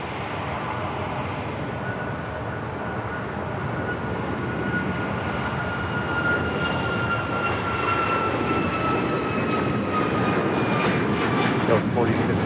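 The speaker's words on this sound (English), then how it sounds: "Next takeoff, United Airlines flight 1416 heading to Houston, Texas, is 737 MAX 9." A United Airlines Boeing 737 MAX 9 takes off at LAX with a sustained jet roar and rising engine whine that builds steadily, accompanied by talk.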